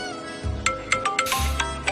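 A phone ringtone signalling an incoming call in a Tamil-dubbed drama, a bright repeating electronic melody of short tonal notes over a low background hum.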